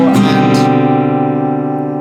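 Acoustic guitar strummed in the pattern for a song, a couple of quick strums followed by a sustained ringing chord, close and alone.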